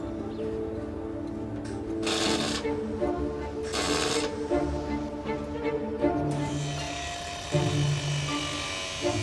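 An angle grinder grinds back a fresh weld on a go-kart seat frame in several harsh, buzzing bursts of a few seconds each, with the last and longest run at the end. The grinding is close and steady, with no speech.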